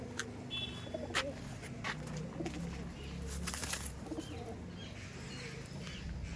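Madrasi pigeons coo repeatedly at close range, soft low calls overlapping with occasional sharp clicks and flutters, with a faint chirp in the background.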